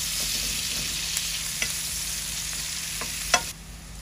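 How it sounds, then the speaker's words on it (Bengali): Onions frying in oil make an even, close hiss under a faint steady hum, with a few soft spatula taps. The sound dips suddenly quieter near the end, and no one speaks. "আমাদের পেঁয়াজ ভাজা হয়ে গেছে"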